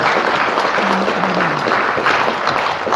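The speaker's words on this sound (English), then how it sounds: "Let's give another round of applause to that." Steady audience applause fills a conference keynote hall, a dense continuous wash of many hands clapping at even loudness, with a faint voice briefly audible beneath it.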